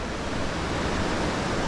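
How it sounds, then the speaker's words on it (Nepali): A dangerous mountain river rushes along a hiking trail where crossing requires holding a rope, giving a steady, loud broadband roar of churning water with no breaks. "बापरे बापरे, कस्तो डेन्जर रहेछ है यो खोला"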